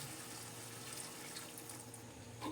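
Steady running water pours continuously into a cooking pan of seafood pancit, a broad close hiss that holds evenly throughout.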